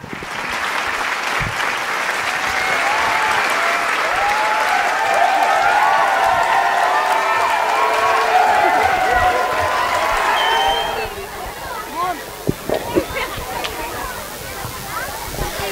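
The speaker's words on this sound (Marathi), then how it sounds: "अजयसाठी टाळ्या वाजवा।" A theatre audience at a Marathi stage play applauds loudly and continuously for about ten seconds, then the clapping thins out into scattered claps and crowd murmur.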